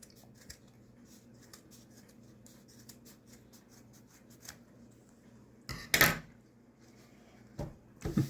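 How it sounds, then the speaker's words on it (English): Scissors make one crisp, close snip through folded paper to cut a five-point star, after a long stretch of faint rustling, followed by a couple of brief paper and handling noises. "Now with just one snip, I'm going to show you how to make a 5-point star."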